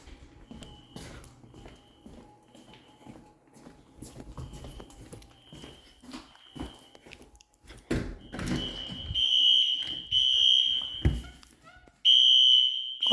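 A fire alarm system under test sounds in piercing bursts, loud and repeated, with faint footsteps and knocking before it begins.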